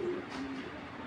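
A male black checker racing pigeon coos softly, a low, brief throaty call against quiet background noise.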